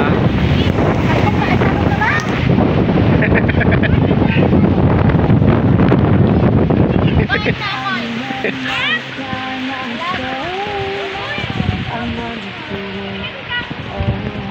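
Strong wind buffets the microphone for several seconds in a vegetable farm, then eases into a softer outdoor rustle with faint voices and bird-like chirps in the background.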